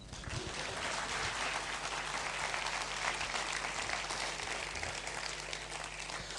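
A crowd applauds steadily, a dense wash of clapping that holds at an even level throughout.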